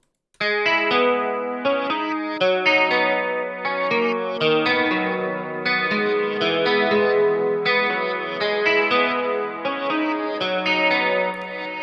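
A clean electric guitar loop plays a flowing melody of plucked notes in FL Studio, washed in reverb and chorus-like shimmer, with no voices.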